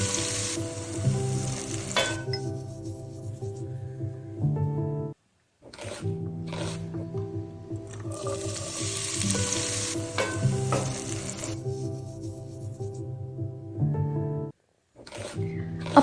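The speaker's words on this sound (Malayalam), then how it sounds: "ഇത് നമുക്ക് പാനിലേക്ക് അല്പം എണ്ണ ഒഴിച്ചിട്ട് എന്നിട്ട് പാൻ ഒന്ന് കറക്കി കൊടുക്കുക കേട്ടോ" Oil sizzles loudly in a frying pan, heated before sardines go in, a continuous crackling hiss broken by two brief quiet gaps.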